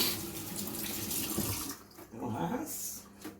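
Tap water runs steadily into a sink to rinse hair dye out of hair, a close hissing splash that breaks off and comes back in a short burst. No one speaks.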